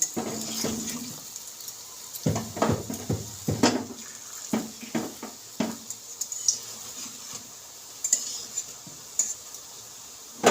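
Frying dumplings crackle in a pan while a utensil scrapes and knocks repeatedly, turning the pieces in a busy, irregular rhythm.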